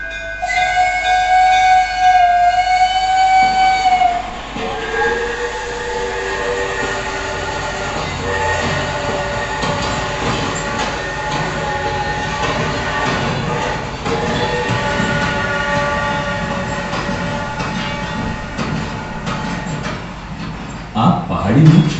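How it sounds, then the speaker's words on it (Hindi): A steam train departing an old station rumbles loudly, with a long horn or whistle blast at the start, wheels clattering steadily throughout, and voices murmuring beneath. "पहाड़ी पर जाने के लिए भाप के इंजन की रेल है, जो इस पुराने स्टेशन से निकलेगी"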